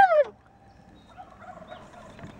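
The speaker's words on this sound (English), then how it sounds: "there are other turkeys in the distance" A loud, rapid gobbling burst right at the start, then faint, distant gobbles and bird calls scattered over a quiet outdoor background.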